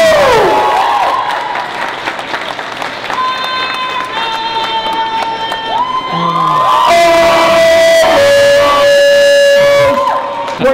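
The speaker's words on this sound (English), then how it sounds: "Let's give a big round of applause for York's birthday." A crowd at a York Lions Red & White day celebration applauds and cheers loudly, with whoops and children shouting mixed into a sustained roar that swells toward the end.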